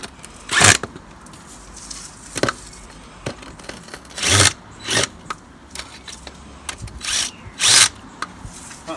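A power tool tightening old-to-new drain pipe couplers in short, loud bursts of whirring with pauses between them and small clicks and handling noises, close by.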